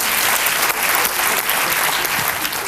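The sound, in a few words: TV studio audience applause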